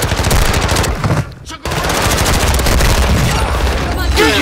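Loud, sustained automatic gunfire in the Warzone video game, rapid bursts filling nearly the whole stretch with one brief pause in the middle.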